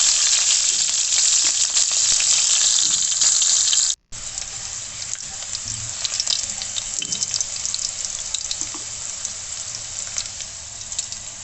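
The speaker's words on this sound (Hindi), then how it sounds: "इस तरीके से अगर आप तेल में फ्राई करेंगे तो बहुत ही ज़बरदस्त से ये रेडी होगी रेसिपी।" Cumin seeds and green chillies fry in hot oil in a pan for an Indian spiced potato dish, giving a loud, steady, dense sizzle that breaks off for a moment and then resumes slightly quieter, with no talking.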